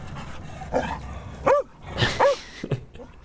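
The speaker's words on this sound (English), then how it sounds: "I feel like it's just a dog barking at a whale" A dog barking at a whale, giving several sharp yipping barks spaced irregularly over a few seconds, close and lively against a low background rumble.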